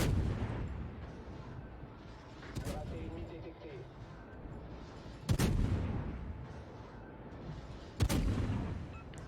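Ship guns fire in a naval battle video game, three sharp, loud salvo blasts spaced a few seconds apart, each followed by a rumbling tail, with someone talking over the gameplay between shots.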